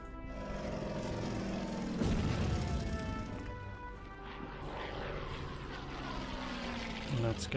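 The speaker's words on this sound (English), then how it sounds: "Second plane." A propeller plane drones overhead in an Order of Battle: Red Steel World War II strategy game mission at Staritsa, a loud, steady engine roar filling the whole stretch with a brief swell of rumble near the middle.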